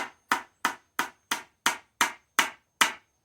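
A hammer taps a wooden snowman's nose into place with about ten sharp, evenly spaced knocks, each crisp and close with a quick decay, with no talking.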